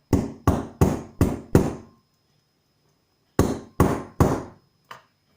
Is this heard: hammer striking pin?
yes